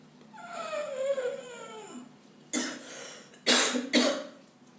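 Three sharp, loud coughs during a yoga breathing exercise come near the end, preceded by a whimpering, falling vocal sound.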